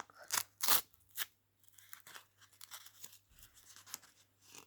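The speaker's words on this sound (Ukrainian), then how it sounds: "Відкриваємо наш пакет." Crinkly plastic packaging of a mask being torn open near the listener, with a couple of sharp ripping bursts followed by softer rustling and crackling.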